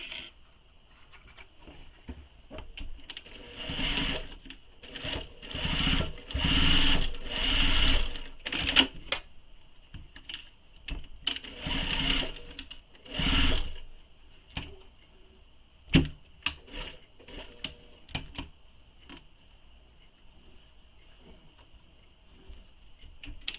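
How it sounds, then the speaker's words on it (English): A sewing machine bastes the side edges of a messenger bag in several runs of steady, rapid stitching close by, separated by short pauses and soft handling clicks. "we're going to baste these side edges. And that just helps prevent the pockets from shifting as we're sewing them in place."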